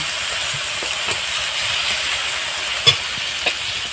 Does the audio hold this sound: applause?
no